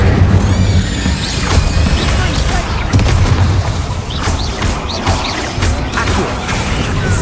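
Spell blasts thump and crash in Hogwarts Legacy combat, a dense run of booming explosions and impacts lasting several seconds, with a voice casting spells over the noise.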